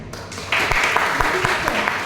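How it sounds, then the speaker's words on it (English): Workshop audience clapping to welcome a speaker onto the stage, applause swelling after a brief lead-in and continuing steadily with some voices mixed in. "Please welcome him with a huge round of applause."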